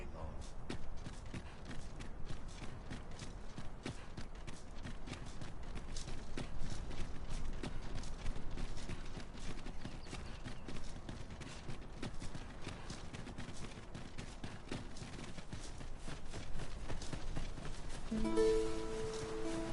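Horses arriving on foot with repeated hoof clip-clops in an uneven walking rhythm, at moderate distance and fairly quiet, continuing for the whole stretch over low background noise.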